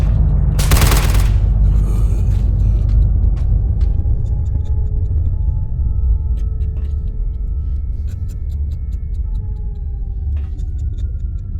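Gunfire from a firefight in the S.T.A.L.K.E.R. Call of the Zone game: a sharp, loud burst near the start, then a steady low rumble with faint scattered cracks further off.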